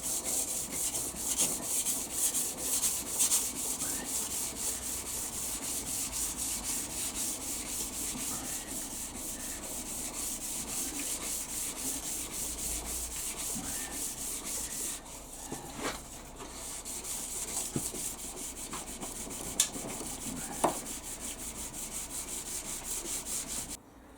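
A langsax blade is polished by hand with long, steady, continuous rubbing strokes, close and even in level, with a few faint knocks near the end.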